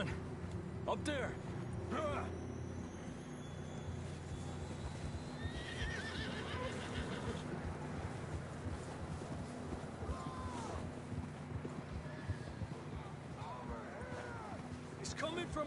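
Horses whinny and neigh amid steady hoofbeats in the video game Red Dead Redemption 2, with people talking over the top.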